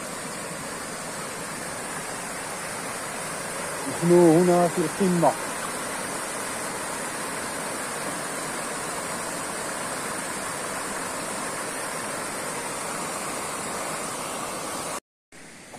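Steady roar of rushing water from the Ouzoud waterfalls, broad and continuous; someone speaks briefly early on over the constant flow.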